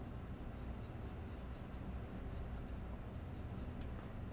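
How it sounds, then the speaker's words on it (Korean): A pencil shades a drawing of a soccer ball on paper. The soft, continuous scratchy rasp sounds close and steady, with faint rhythmic strokes throughout and no talking. "살짝 칠해줍니다"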